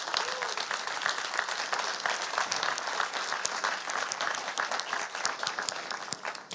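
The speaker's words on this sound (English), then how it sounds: "please kindly put your hands together for the Director" Sustained applause from an audience at a retail award ceremony, dense steady clapping with no clear pauses, fairly loud and close throughout.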